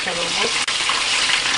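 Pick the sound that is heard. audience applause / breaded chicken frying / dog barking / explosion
breaded chicken frying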